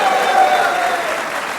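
Sustained applause from a TV studio audience for Shadab, an even, continuous patter of many hands with a faint voice riding over it.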